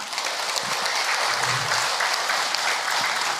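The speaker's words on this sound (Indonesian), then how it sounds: "tepuk tangan buat Ibu Oros Semala" Audience applause fills a religious lecture hall for a woman just honored, a steady dense wash of many hands clapping throughout, fairly loud and close with no talk over it.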